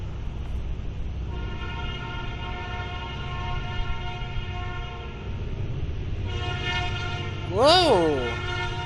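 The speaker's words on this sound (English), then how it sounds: "It's that steel coil train that's so stereotypical for Chesterton when you see it." A freight train hauling steel coils rumbles past steadily in Chesterton, its horn sounding a long chord that suddenly rises into a brief loud blast near the end.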